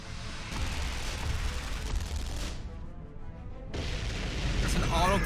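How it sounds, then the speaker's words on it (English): Heavy autocannon fire in the Guilty Gear Strive animated movie: dense, loud booming bursts that roll on, break off briefly, then resume with voices and battle noise mixed in. "There's an autocannon?"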